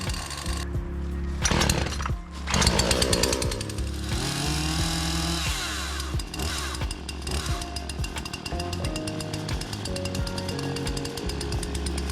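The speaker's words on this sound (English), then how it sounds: "Chainsaw's ready." A chainsaw engine roars close by, revving up and down with sharp bursts and a rough idle between, loud and alone.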